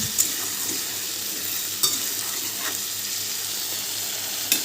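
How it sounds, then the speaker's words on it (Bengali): Chopped mixed vegetables sizzle steadily in a frying pan, close and continuous, with a few brief scrapes and knocks as they are stirred. "যে কেটে রাখা সবজিগুলো ছিল সেগুলো আমি দিয়ে দিচ্ছি খুব ভালো করে এখানে সবগুলোকে আমি নাড়াচাড়া করে নিচ্ছি"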